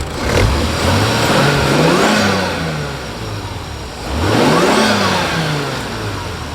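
A manual 6-speed Mk4 Toyota Supra RZ with a facelift 2JZ engine and a quiet exhaust revs twice, each rev rising, holding, then falling back, loud and close with no talk.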